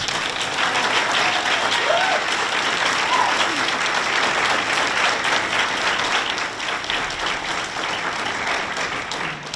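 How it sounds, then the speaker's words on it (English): Audience at a horror fan convention panel applauding, a dense, steady wash of many hands clapping that carries on throughout and eases slightly toward the end. "Everybody give a round of applause."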